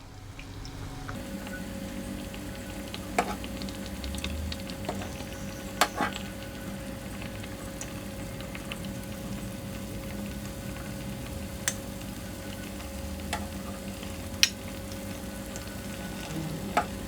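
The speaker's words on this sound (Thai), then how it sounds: "เลือกแล้วไฟกลางครับเคี่ยวจนสุกประมาณ 3-4 นาทีครับ" Chicken simmering over medium heat in a pan for oyakodon, a steady soft bubbling and sizzle running throughout with occasional faint ticks and clinks, close and unbroken, with no voices.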